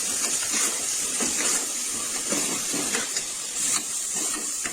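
Onions sautéing in a pan for a Tamil-style chicken gravy give a steady, close sizzling hiss with scattered crackles and pops throughout, no voices.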